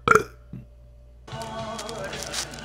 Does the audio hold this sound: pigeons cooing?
no